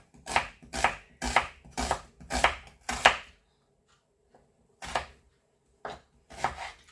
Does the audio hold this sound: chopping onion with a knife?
yes